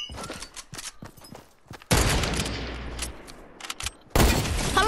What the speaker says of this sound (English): It's a sniper. That's a sniper.